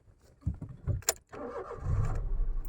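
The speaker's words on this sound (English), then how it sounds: "So let's start the car." A car engine being started: a few cranking turns, a short gap, then the engine catches and settles into a steady, close, low idle.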